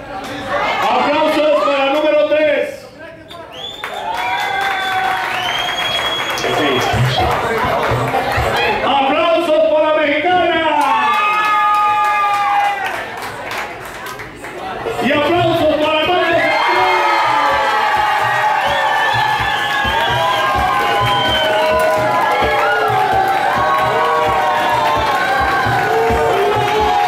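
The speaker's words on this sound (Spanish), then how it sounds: "Aplausos para número 3." A lively audience at a contestant show cheers and whoops with shouting voices, loud and sustained, with a brief dip before the noise swells again.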